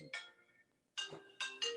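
A mobile phone ringtone goes off during a conversation, a bright electronic melody in short bursts with a pause between, fairly quiet in the room.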